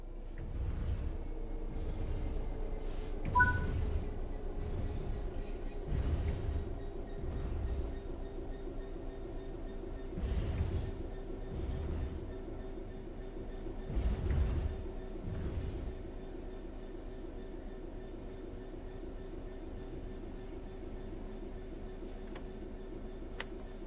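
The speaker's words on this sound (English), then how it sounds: "The train will then coast on level ground, and the train will only slow down very gradually." A train in Train Sim World 4 coasts steadily along level rails with a low mechanical drone and rhythmic clicks and knocks from the wheels, continuous for the whole stretch.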